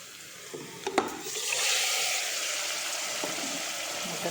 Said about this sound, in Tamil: இந்தளவு வந்ததுக்கப்புறமா நம்ம இந்த ஊற வச்சுருந்த மட்டனை இதில் சேர்த்துக்கலாம்.